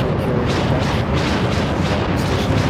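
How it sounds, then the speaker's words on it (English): Bastion carrier guns firing in the PlanetSide 2 video game, a continuous heavy barrage of deep booming blasts with rumbling overlapping impacts, loud and dense throughout. "Apparently VS Bastion is firing."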